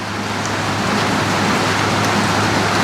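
Heavy rain pours down during a storm, a steady, dense hiss of drops hitting surfaces that continues unbroken with no talk.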